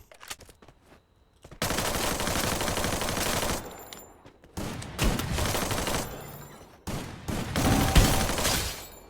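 Sustained automatic gunfire in a Free Fire gunfight, loud and close, coming in long rattling bursts separated by brief gaps, with the last burst the heaviest.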